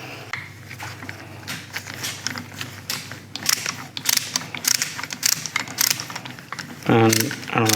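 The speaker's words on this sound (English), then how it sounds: "it will push the piston in slightly" A cheap brake pad retractor tool pushes a caliper piston back in during a VW Golf Alltrack brake job, giving close, irregular clicks, ratchety creaks and metallic taps, with someone talking briefly near the end.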